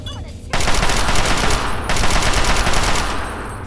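Rapid automatic gunfire in a modded Fallout 3, loud and close, rattling in a continuous burst after a brief lead-in, with a short break midway before the firing resumes.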